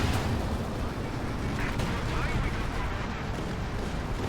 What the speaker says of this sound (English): Got some artillery coming down